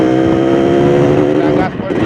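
A Yamaha RX King motorcycle runs at full throttle close by, with a loud, steady engine roar that dips briefly near the end.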